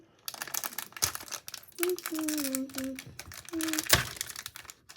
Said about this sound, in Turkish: Önce şekerinden açmaya başlayalım.